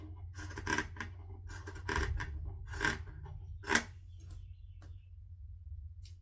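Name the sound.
zigzag scissors cutting fabric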